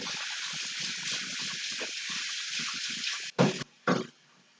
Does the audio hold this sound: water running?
yes